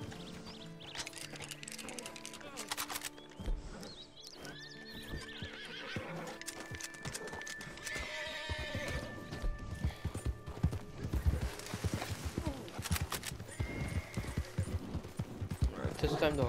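Horses whinny and hooves clip-clop in a steady trotting rhythm in Red Dead Redemption 2, with game music and effects layered underneath.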